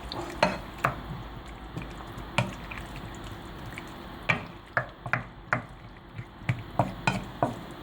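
Water poured into a pan of simmering fish sauce with fresh tomatoes, giving a soft bubbling sizzle and scattered stirring clicks and drips, close and steady, with no voices.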